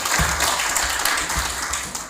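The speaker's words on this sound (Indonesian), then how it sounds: "Kita tepuk tangan buat Tuhan dulu." Guests at a retirement farewell gathering clap together in a short burst of moderately loud applause, with a few duller taps and thumps mixed in, and no talking over it.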